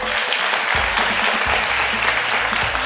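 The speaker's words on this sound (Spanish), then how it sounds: "Un aplauso." A church congregation at a sermon breaks into a loud, dense round of applause that stays sustained and even for a few seconds.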